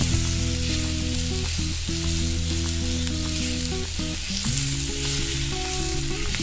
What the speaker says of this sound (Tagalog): ilagay na natin ng hipon